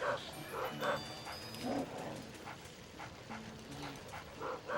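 Dog in the video game Luigi's Mansion, a series of short yips and whimpering barks in a quiet game scene, with faint musical tones underneath.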